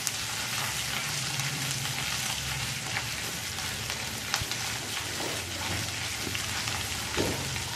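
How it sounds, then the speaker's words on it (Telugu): Onions and ginger-garlic paste fry in a hot pan, giving a steady, dense sizzle and crackle that runs unbroken throughout, with a few faint stirring clicks and no talking. "ఉల్లిపాయ వేగిన తర్వాత అల్లం వెల్లుల్లి పేస్ట్ వేసి పచ్చివాసన పోయేదాకా ఫ్రై చేసుకోవాలి."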